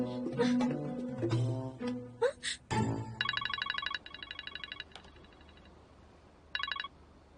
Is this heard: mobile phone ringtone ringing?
yes